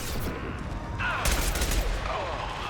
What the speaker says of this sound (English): And he's shooting at me through the box.